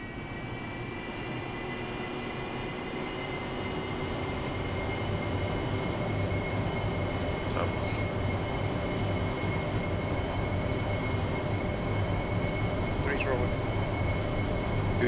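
An AV-8B Harrier jet engine roars steadily through its takeoff roll, a loud, dense, unbroken rumble with a whining tonal edge that holds at near-constant strength from start to finish.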